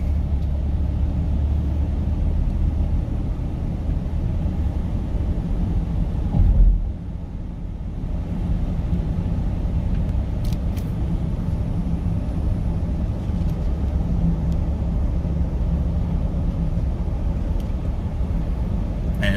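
A 2015 Ford Expedition EL Platinum accelerates through its gears, a steady loud engine and road rumble heard from inside the cabin, with a brief dip around a shift midway.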